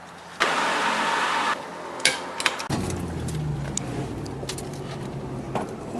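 A 1965 Ford Thunderbird with a carbureted engine, heard close up during a power steering pump rebuild. It cranks loudly, stutters through a few knocks and sputters, then fires and runs on in a rough, steady rumble.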